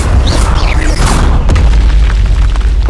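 Incendio fire spell blasts in the Hogwarts Legacy video game, a loud booming burst with a sharp crack partway through, set against continuous rumbling game sound.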